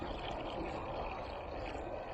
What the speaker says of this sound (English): then I go ahead and add the water so it mixes it up as it fills up